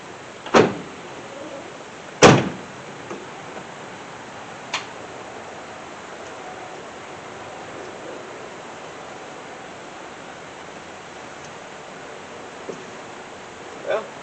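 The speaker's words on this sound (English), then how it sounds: "let's make sure this door still sits down" A Ford F150 pickup door shuts with a sharp, fairly close thud near the start, followed by a few fainter knocks and clicks against a steady background hiss.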